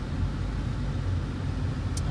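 A car drives toward Manuel Antonio National Park in Costa Rica, its steady low engine and road rumble filling the cabin without a break.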